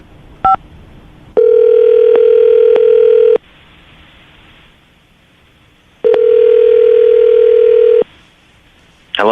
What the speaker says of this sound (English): I'm about to dial the phone number right now